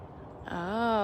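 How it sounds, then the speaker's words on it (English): A feral cat in a parking lot lets out a single drawn-out meow with a rising, wavering pitch, starting halfway in and moderately clear over low background rumble. "That sounds like a feral cat out in the parking lot."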